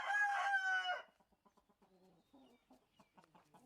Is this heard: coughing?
no